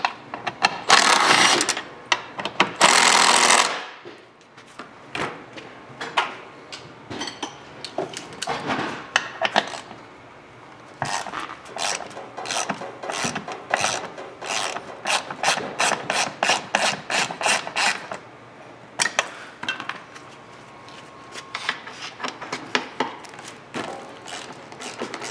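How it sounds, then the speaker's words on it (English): A ratchet turning 8mm triple square bolts on a 1998-2004 Audi A6 Allroad C5 seat, with rapid clicking bursts in long and short runs and a few louder scraping rubs near the start, close up and without speech. "Get a ratchet on that one."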